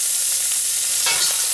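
Ginger, garlic and chili stir-fry in a hot pan for a scallop and vegetable dish, a loud close sizzle with a quick scrape and toss of the spatula near the end.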